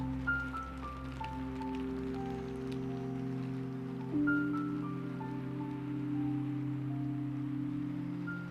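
Steady rain patters and hisses throughout beneath soft, sustained musical tones that shift pitch now and then, with no voices.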